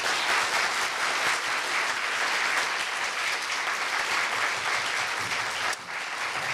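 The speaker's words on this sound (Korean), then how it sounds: "여러분 큰 박수로 반기문 총장님을 환영합니다." A lecture audience at Korea University applauds to welcome former UN Secretary-General Ban Ki-moon. The loud, sustained clapping fills the hall evenly for several seconds before easing slightly at the end.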